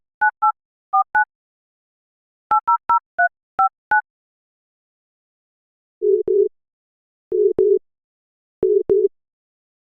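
A phone call to a lorry service is placed: a quick series of paired dialing beeps, then repeated lower ringback tones in short double pulses, clean and alone with silence between.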